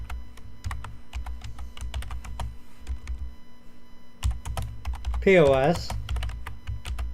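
Rapid clicking of computer keyboard keys while a folder name is typed on a Windows 7 PC, a steady run of light taps, with a short spoken word partway through and a low hum underneath.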